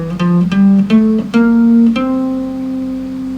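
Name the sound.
guitar playing Mixolydian mode scale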